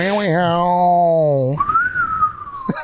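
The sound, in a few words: whistling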